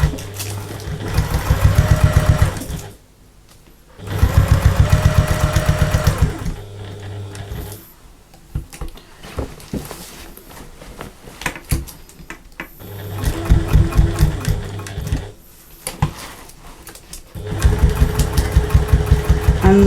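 Sewing machine stitching and back-stitching fabric for a shoe carrier, running in loud mechanical bursts of a few seconds each, separated by short pauses, with no talk.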